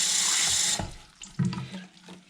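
Tap water runs into CPAP tubing, a bright steady rush for under a second, then stops, followed by faint sloshing and handling noises.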